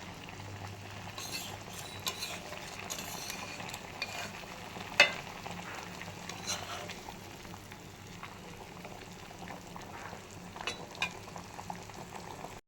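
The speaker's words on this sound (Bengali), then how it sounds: "তারপর এর মধ্যে একটু ঘি দেব। বেশি নাড়বো না।" Pointed gourd dish cooking in ghee, a soft, low bubbling sizzle with a few faint clinks and stirring taps, quiet and continuous, without speech.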